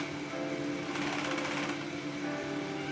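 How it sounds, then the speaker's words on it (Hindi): An electric sewing machine runs continuously, stitching the waistband seam of a salwar, a steady close mechanical whir with a rapid needle rhythm that swells slightly in the middle. "बेल्ट और सलवार के भाग को सिला जा रहा है, तो ओवरऑल इसको गोलाई देते हुए सिलेंगे।"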